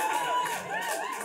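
A comedy club audience cheers and whoops with scattered applause, a dense, steady burst of crowd noise heard up close for a brief moment.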